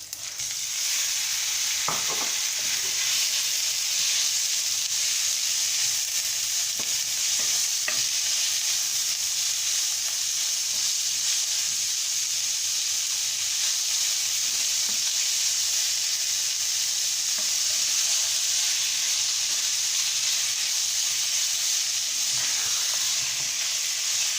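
Minced beef frying in a pan for a meat pie filling, a loud continuous hissing sizzle held throughout with occasional faint clicks of stirring, no speech.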